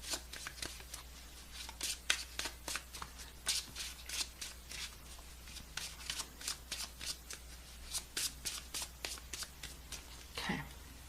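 Tarot cards riffle and snap in a quick, uneven run of crisp flicks, close and fairly quiet over a low steady hum, ending with a soft rustle.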